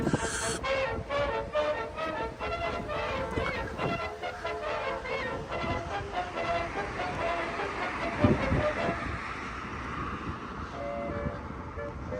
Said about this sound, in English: the other end of the metro station down here